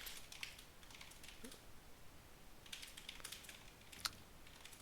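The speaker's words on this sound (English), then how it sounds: "I'm gonna, type this out in case he's not listening to the stream" Quiet clatter of typing on a computer keyboard, irregular clusters of soft key clicks with short pauses, close and alone.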